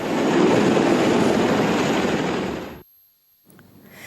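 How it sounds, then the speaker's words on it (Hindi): Marine One, the US presidential helicopter, gives a loud, steady roar of rotor and engine for nearly three seconds before the sound cuts off abruptly into near silence, with faint noise returning at the end. "मरीन वन हेलीकॉप्टर का सफर अमेरिकी राष्ट्रपति के लिए बेहद सुरक्षित"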